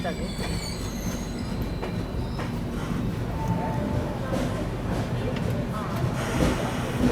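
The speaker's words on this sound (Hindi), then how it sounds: "यहाँ पे इसको ओवरटेक करके अभी अपनी ट्रेन आगे निकल रही है" Passenger train overtaking a freight train hauled by an old WAG5 locomotive, with a steady rumble of wheels on rail, squealing and clatter heard close up throughout, under faint voices.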